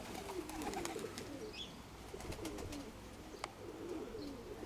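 A male pigeon cooing softly at the loft, low repeated coos amid faint ambient clicks and shuffling, no speech.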